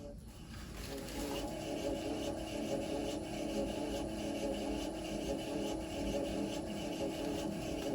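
Bauer 14 in. x 20 in. electronic variable-speed wood midi lathe running at low speed, a steady motor hum with a faint whine that rises slightly after a quiet start, heard close and fairly soft with no talk.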